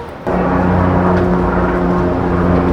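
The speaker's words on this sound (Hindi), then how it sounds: "तो देखा आपने, ये हेलीकॉप्टर है।" Helicopter running at a pilgrimage helipad, a loud steady engine and rotor drone with constant low hum that holds without pause, close by and without talk.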